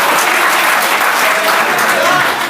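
Dense, steady applause from the audience at a mushaira poetry gathering held by a bar association in Meerut, clapping continuous and close throughout.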